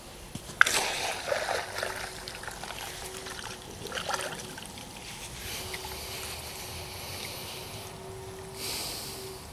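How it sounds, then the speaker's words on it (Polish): Water splashes and sloshes nearby, with a sharp splash at the start followed by trickling and dribbling, and a faint steady tone underneath. "Monia, woda."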